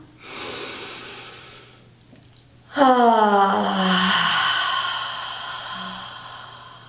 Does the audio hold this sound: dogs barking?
no